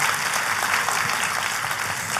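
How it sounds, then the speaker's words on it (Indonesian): A church congregation applauds, a dense, continuous wash of many hands clapping at moderate loudness, heard throughout a short stretch without distinct individual claps. "Kita kasih tepuk tangan yang paling meriah."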